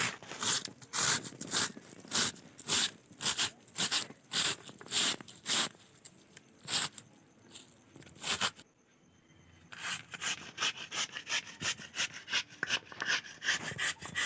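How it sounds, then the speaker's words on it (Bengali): Potatoes are grated on a hand grater with rapid rhythmic scraping strokes, close and clear, pausing briefly midway before the steady rasping resumes. "তোমরা এইভাবে বাড়িতে গেটার দিয়ে ভালো করে কুড়ে নেবে আলুটা।"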